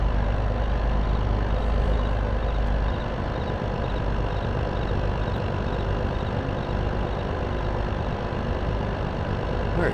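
A truck engine from the video game Farming Simulator 22 idles and drones steadily for ten seconds, a loud, continuous low rumble with no talking over it.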